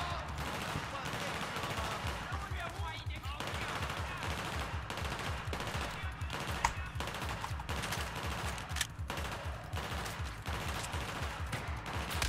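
Rapid automatic gunfire from the Battlefield 4 video game rattles in fast, repeated bursts throughout, steady and moderately loud with a constant busy background.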